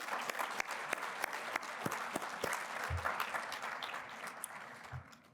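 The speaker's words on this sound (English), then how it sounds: "Let's give them a round of applause." An audience at an MLK Day celebration applauds steadily, a dense patter of many hands clapping at a moderate distance, with a few louder claps standing out.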